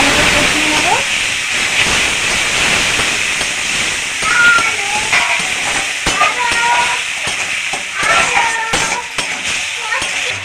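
A spice paste of tomato, black mustard and green chilli fries with turmeric and a splash of water in a pan, sending up a loud, continuous hiss and sizzle with sporadic spits while someone talks over it.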